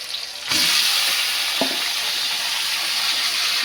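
Marinated chicken for biryani hits hot oil and sizzles loudly, a steady broadband frying hiss that rises sharply after a brief quieter start and continues with a few soft stirring knocks.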